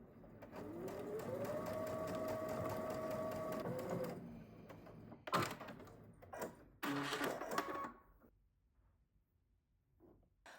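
A sewing machine runs steadily for about four seconds while edge stitching a zipper pouch, then stops, followed by a few short bursts of handling and machine noise before the sound falls to near silence.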